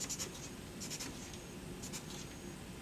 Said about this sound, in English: I'll line my ruler up. The mark is lined up with the edge of the paper. And I'm going to make marks at every 1/2 inch.